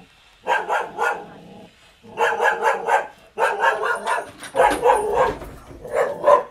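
A tethered dog at an old Ming-Qing style courtyard house barks in repeated bursts of several loud, close barks separated by short pauses.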